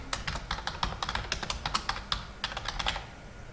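Rapid typing on a computer keyboard, a dense run of crisp key clicks with short pauses between them, close and moderately quiet, with no voices.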